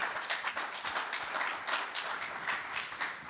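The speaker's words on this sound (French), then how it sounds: "Vous pouvez les applaudir" A round of applause follows a round-table conference on the XR market. The clapping is fairly quiet and distant, with individual hand claps audible in an uneven patter over a few seconds.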